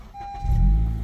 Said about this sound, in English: So clutch in, press the button,